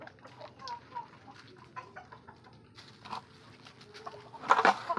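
A gamefowl broodcock clucks softly in a quiet yard, with a few faint low calls before a louder, sharper burst near the end.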